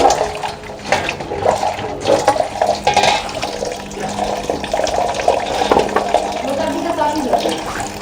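Water runs and splashes steadily as jamun fruit are washed in a Gujarati home kitchen. The fruit are stirred and jostled in the flow, close and fairly loud, with voices talking underneath.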